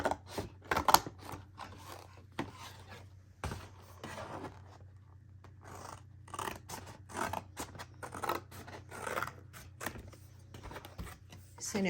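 Scissors snip through a paper cover template in repeated short cuts with rustling paper between them, close and fairly quiet over a low steady hum.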